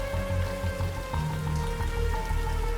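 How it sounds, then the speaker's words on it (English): Rain falls as a steady, even hiss in a suspense thriller audio story, layered under sustained music tones with no voices. "it began to rain"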